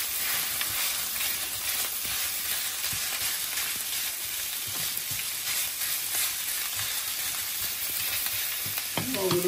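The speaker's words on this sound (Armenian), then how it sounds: "Այստեղ տապակում ենք մի փոքր, տապակում ենք սոխը։" Onion and meat frying together in a pan with occasional stirring, a dense, continuous close sizzle and hiss that holds steady throughout with a few scraping stirs near the end, no voices.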